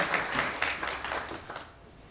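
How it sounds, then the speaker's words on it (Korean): Audience applause at a church creation-science seminar, a dense wash of clapping that holds steady and then thins out over about two seconds, fairly faint and with no voices on top. "뜨거운 감사 박수 드리고 말씀드립니다"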